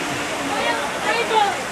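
Steady rain pours down outdoors in a continuous broadband hiss, loud and close, with faint voices mixed in underneath.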